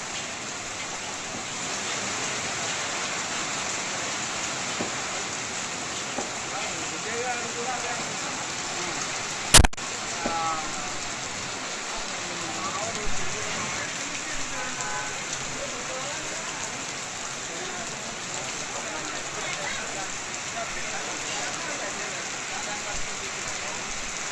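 Heavy rain pours down over Hyderabad, a steady dense hiss of drops on surfaces holding for the whole stretch with one sharp brief crack near the middle; no voices.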